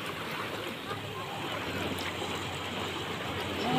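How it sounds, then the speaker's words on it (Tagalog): Ocean waves wash steadily onto Patar beach in Bolinao, Pangasinan, a continuous broadband surf rush that swells slightly louder toward the end, with wind and faint background voices mixed in. "Alon."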